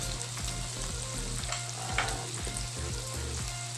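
Meat fries in a pan for pancit canton, giving a steady, close sizzle under a low, rhythmic tapping hum. Light stirring clatter comes and goes, with no voices.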